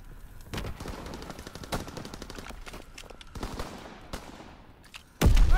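Rapid gunfire in a video game crackles in dense bursts and scattered single shots, moderately loud and near, with echoing tails and a heavy burst at the very end.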